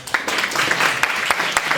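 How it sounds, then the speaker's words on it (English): An audience claps for the city mayor as he comes up, steady broadband applause with sharper individual claps poking through the wash. "I like if you can give him a big round of applause as he come up"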